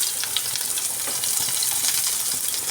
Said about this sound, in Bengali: তো এরপর আমি এখানে দিয়ে দিলাম একটা পেঁয়াজ কুচি।